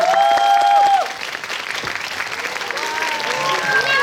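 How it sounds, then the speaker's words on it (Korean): A cinema audience at a live talk event breaks into applause, a steady wash of clapping under a host's amplified voice that trails off as the clapping continues. "여러분 큰 박수 부탁드리겠습니다."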